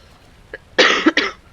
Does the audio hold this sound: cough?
yes